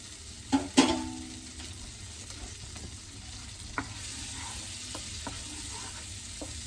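A wooden spoon stirring butter as it melts in a pan for banana foster French toast, with a soft, low sizzle, two sharp knocks at the start and faint scattered taps afterward.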